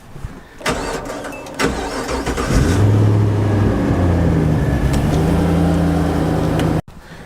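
A Rally Fighter car's engine cranks over and catches, then settles into a steady, loud idle close by, cutting off abruptly near the end.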